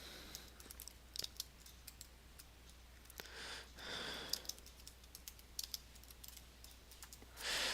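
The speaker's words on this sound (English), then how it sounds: "So I'm going to type in South Warren High School" Quiet, irregular keystrokes on a computer keyboard while typing a school name into a search box, scattered single clicks with short bursts and pauses, no voices.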